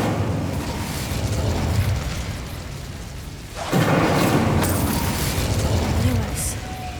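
An Incendio fire spell cast in the video game Hogwarts Legacy. A steady low background gives way to a sudden loud, roaring whoosh of flame that flares up and holds for a few seconds before easing off.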